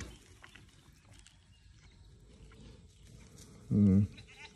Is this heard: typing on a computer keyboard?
no